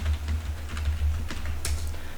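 Keys clatter on a computer keyboard in a run of light, uneven taps, close by and steady above a constant low hum, with no voices.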